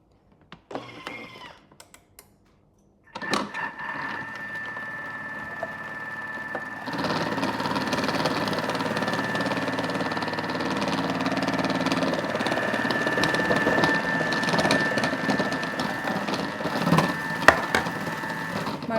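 A vegetable cutter machine starts after a few quiet handling sounds and settles into a steady mechanical hum and whir as lettuce is fed through, with faint chopping clatter over the motor.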